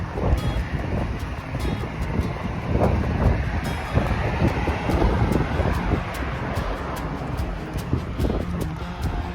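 A long freight train, loaded heavily, rumbles past steadily and loud with continuous low roar and wind buffeting, clanking wheel thumps recurring throughout.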